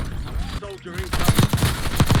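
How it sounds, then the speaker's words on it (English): Rapid bursts of gunfire in a Call of Duty game, with dense, overlapping shots coming in clusters, loud and close, with a brief lull partway and a voice heard under the shooting. "I am getting shot from every direction."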